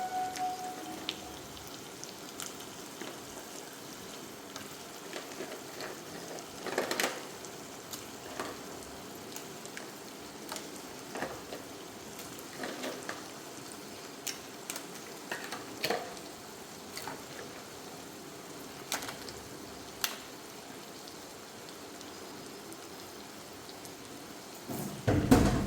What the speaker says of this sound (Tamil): இப்போ இந்த நேரத்தில் நம்ம க்ளீன் பண்ணி வச்சுக்கிற நண்டை போட்டுருவோம்.